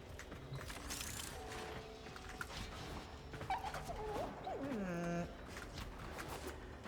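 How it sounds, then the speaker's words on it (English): A puppy in a video game whines in a series of high, sliding whimpers near the end, over steady game background sound and a voice talking. "The puppy is whining and it's so cute."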